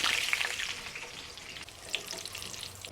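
Green chillies and curry leaves sizzle steadily in hot oil for a fish pakoda side, a continuous bright crackle with small pops close by and no voices.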